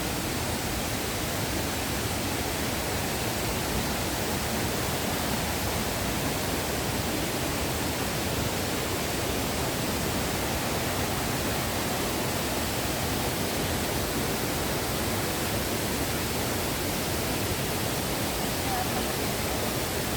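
Mantayupan Falls in Cebu roars as a steady, dense wash of falling water, loud and unbroken throughout with no pauses.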